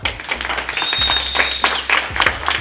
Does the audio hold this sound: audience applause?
yes